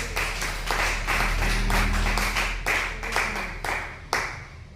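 A church congregation claps together in rhythm during a Spanish-language service, sharp bursts repeating at a fairly even beat, close and moderately loud, with no talking over them.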